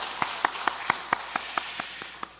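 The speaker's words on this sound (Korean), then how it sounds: "서로를 위해서 박수 한번 드릴까요?" A church congregation claps together during a Sunday morning service, with evenly spaced hand claps in a steady rhythm, moderately close and unaccompanied by talk.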